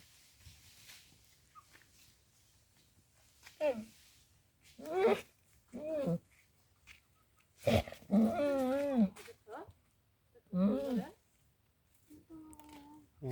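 A goat sick with rabies gives dog-like calls: growls, whimpers and bark-like cries. Several separate calls come at irregular intervals, loud and close, with quiet gaps between them.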